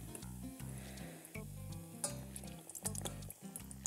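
Apples in batter frying in boiling sesame oil, a quiet close crackle and sizzle with small pops and bubbling; no one speaks.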